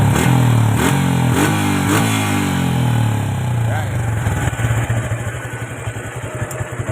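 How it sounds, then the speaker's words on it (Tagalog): A Suzuki Gixxer 155 motorcycle, catalytic converter removed and TMX carburetor installed, revs hard with loud rising blips, then settles into a rough, pulsing idle with a throaty exhaust close by. "Kaya malakas yung pipe natin kasi nakapag tinanggal na natin yung catalytic dito sa loob."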